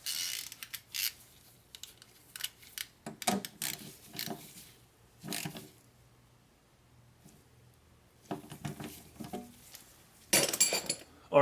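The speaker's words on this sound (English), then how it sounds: "So now let's torque these bolts." Metallic clinks and ratcheting clicks of a torque wrench tightening oil pan bolts to 71 inch-pounds on a Sprinter van, coming in irregular bursts with quiet gaps between.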